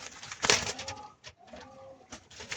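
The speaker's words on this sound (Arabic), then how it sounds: "الحمام ده كله تقليبه عالي يا جماعة" Young homing pigeons and French meat pigeons coo softly, a few low throaty coos close by with faint rustling between them and no talk.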